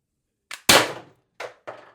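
An Umarex TR68 fired once on 800 PSI high-pressure air, a sharp close pop followed by quick metallic clacks of the mechanism, with no voices.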